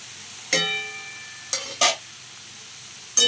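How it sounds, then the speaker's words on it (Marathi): Dal with jaggery being sautéed in a kadhai: a low frying sizzle broken by four sharp scraping stirs of a spoon against the metal pan, close and distinct. "कढईमध्ये मी डाळ टाकलेली आहे तर आता आपल्याला काय करायचं आहे डाळ परतून घ्यायचे आहे"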